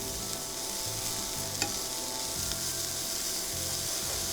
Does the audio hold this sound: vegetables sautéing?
yes